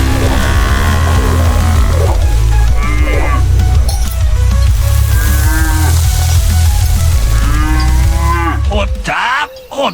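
A magic buffalo conjured by a sorcerer lets out long, loud, wavering moos over a deep continuous rumble, several calls in succession filling the scene.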